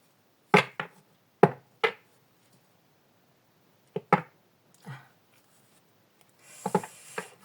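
Tarot cards being cut and handled on a table during a reading, giving a few sharp, close slaps and taps at irregular intervals, then a brief riffling shuffle near the end; no talking.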